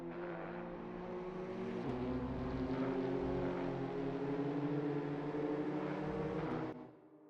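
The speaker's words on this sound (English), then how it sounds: "This car in the low revs sounds so good." A race car engine in a video game drones steadily at low revs for several seconds, then cuts off abruptly near the end.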